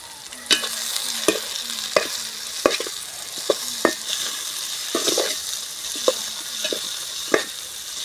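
Fish pieces frying in a pan of well-cooked onions, a steady sizzle broken by sharp, regular scrapes and knocks of a spoon stirring against the pan, with no voices.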